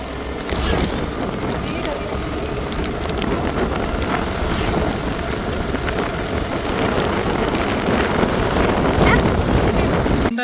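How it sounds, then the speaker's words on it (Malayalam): Heavy rain pours steadily as a broad, continuous hiss close to the microphone, with gusty rumble and scattered splashes throughout. "മഴ നല്ല മഴ."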